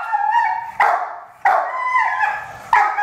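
A dog barks at another dog during aggression training in a household with multiple dogs, giving three sharp, loud barks spaced about a second apart and alone, with no talk over them.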